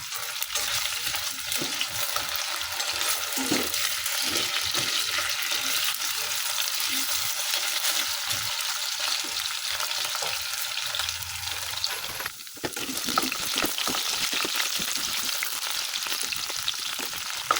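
Carrots, potatoes and chicken frying in coconut oil in a pan, a steady close hiss and crackle that runs throughout, with stirring scrapes and a short dip near the end.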